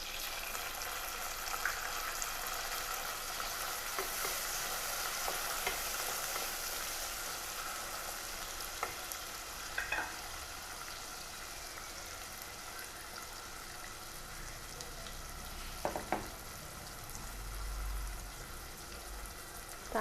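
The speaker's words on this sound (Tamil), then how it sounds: "வெங்காயம் கொஞ்சம் வதங்கிடுச்சு. நம்ம இப்போ தக்காளி சேர்த்துக்கலாம்." Onions and tomato frying in a pan for a Tamil thikkadi mutton gravy, a steady soft sizzle throughout with occasional stirring clinks and scrapes, fairly quiet and continuous, no talking.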